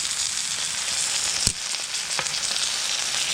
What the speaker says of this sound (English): So now this is when you flip the wing.